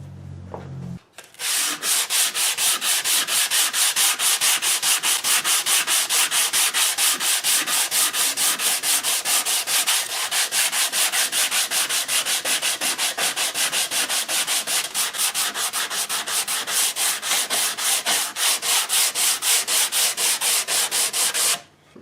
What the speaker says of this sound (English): So the 100 grit takes the sealer off the surface pretty quickly